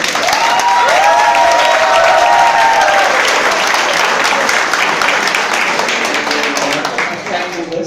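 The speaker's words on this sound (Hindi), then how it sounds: "मैं चाहता हूँ कि आप सब एक जोर से बहुत जोर से ताली बजा दीजिए हमारे सीनियर को।" An audience at a microcontroller workshop claps loudly and steadily after being asked to applaud a senior, the dense applause running throughout while a voice talks over the first few seconds.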